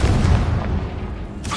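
A deep, booming blast from the Confringo fire spell in Hogwarts Legacy rumbles loudly and fades, with a second muffled burst near the end.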